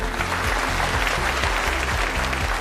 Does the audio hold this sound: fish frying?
no